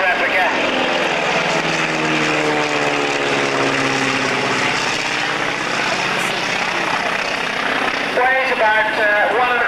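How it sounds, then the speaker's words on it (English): A Fairey Flycatcher replica biplane flies past at the Weston Park air pageant, its propeller engine droning steadily with rising and falling pitch sweeps. An announcer speaks throughout. "But now here's the flycatcher replica."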